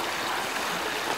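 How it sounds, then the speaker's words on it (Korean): A stream flows beside a pine forest trail, a steady soft broadband rush of water with no breaks, faint and continuous with no voices. "아, 물소리 좋다,"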